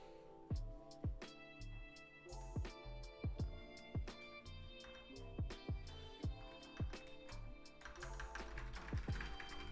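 Rapid typing on a split keyboard, a Moonlander or Kinesis Advantage 360, with close, crisp key clicks in an uneven, steady rhythm and no voices.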